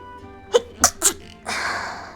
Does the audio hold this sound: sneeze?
yes